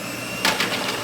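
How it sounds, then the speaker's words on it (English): A food processor chopping peeled garlic gives a steady mechanical whir with a few quick rattling pulses, close by and with no talk. "you're gonna put your food processor on and peel your garlic and then put it in"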